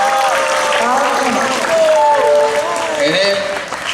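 Audience applause at a school outreach event at a madrasah in Jambi. The clapping is a steady, loud crowd wash that lasts several seconds, with voices and other sounds mixed over it.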